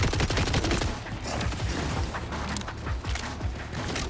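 Gunfire in the video game The Last of Us, loud rapid bursts of shots layered over game noise and low rumbling, dense and close throughout.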